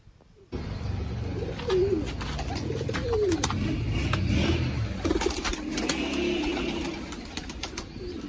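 A golden breeder pair of pigeons coos in soft, repeated throaty phrases, close by, with occasional chirps and a steady background hum throughout.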